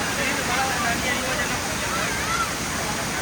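Hogenakkal waterfall pouring moderately into a bathing area, swollen by Karnataka rains, heard as a dense, steady rushing roar that fills the whole short stretch.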